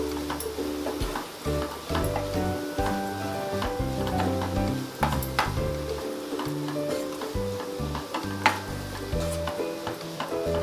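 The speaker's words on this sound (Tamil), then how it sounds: "பாவக்காவை நல்லா கலரி விட்டுட்டேன்." A spoon stirs sliced bitter gourd with spices in an oily pan, with steady scraping and clinking strokes over a constant low sizzle from the frying.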